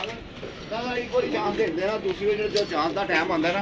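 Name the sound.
pigeon cooing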